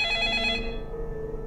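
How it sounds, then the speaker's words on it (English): A telephone rings in 428 Shibuya Scramble, a bright electronic trill that sounds loud for a moment and then cuts off, leaving a low hum. "The sudden ringing of the phone startled everyone in the room."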